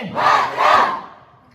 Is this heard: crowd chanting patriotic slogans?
yes